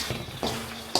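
Tomato-powdered popcorn tossed with salt in coconut oil gives a brief, close rustle, with a few soft scraping strokes and light crackly bursts.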